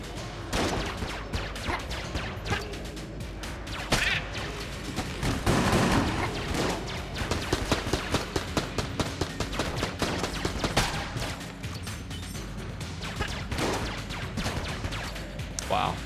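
A default gun in Enter the Gungeon fires in rapid repeated bursts, clusters of sharp shots scattered across the span among game effects and music, with a voice talking over parts of it.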